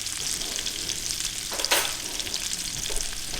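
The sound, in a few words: salmon frying in a pan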